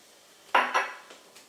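A spoon clinks against a glass while stirring a Dark 'N Stormy cocktail topped with ginger beer, giving two close, sharp knocks followed by a faint rattle and then quiet.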